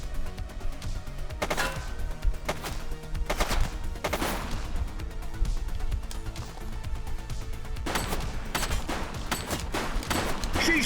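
Gunfire in the police game The Precinct, heard as repeated sharp shots and rapid bursts spread across a steady din of action noise, loud and close.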